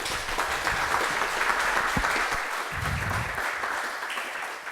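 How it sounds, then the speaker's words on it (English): A conference audience at a BornHack talk on European internet policy gives a steady, dense round of applause to welcome a speaker, sustained at an even level throughout with a few faint voices underneath. "Give a big round of applause to Amelia."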